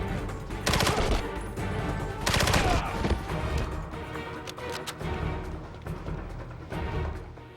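Assault-rifle fire from enemies in 007: Blood Stone comes in two sharp, loud bursts early on, followed by scattered lighter shots and thuds over sustained combat noise.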